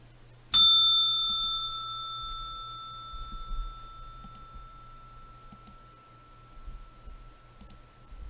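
A stock market opening bell rings once with a sharp struck onset and a long, clear ringing tone that slowly decays, followed by faint clicks and low rumbling in the background.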